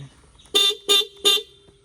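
Bajaj Chetak electric scooter horn sounding three quick, evenly spaced beeps, close and loud, in an otherwise quiet spot.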